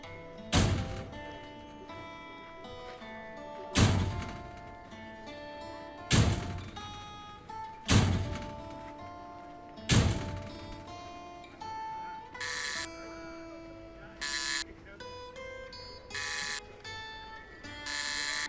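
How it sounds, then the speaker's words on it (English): Knocks on a door and a buzzer in the Shardlight adventure video game: five loud, spaced knocking thumps followed by several short electronic buzzer bursts, close and clear over a musical ambient background. "So you want to knock the door 5 times and ring the buzzer"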